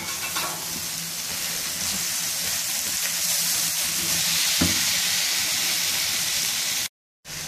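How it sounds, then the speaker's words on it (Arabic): Tomatoes and chopped vegetables sizzle loudly in a hot pan while being stirred, a steady frying hiss with scraping bursts that cuts out briefly near the end. "احط الطماطم كده، هديله تقلبتين وبعدين هنزل على طول"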